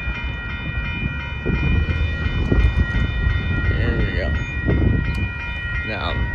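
A northbound Union Pacific mixed freight train rolls past at a road crossing in Austin, Texas, with rumbling wheels and clanking cars, a steady rhythmic clatter under a high whining tone, while a voice talks faintly over it.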